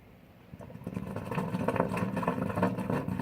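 A backyard aquaponics water pump kicks on with a low, rumbling whir that swells after a soft start and keeps droning steadily, fairly close.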